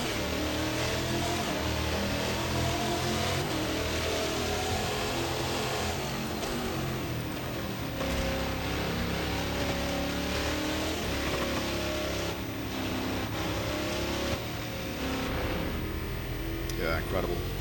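A race car engine in the Automobilista 2 racing game heard from an outside view, roaring loudly and continuously with rising and falling revs throughout.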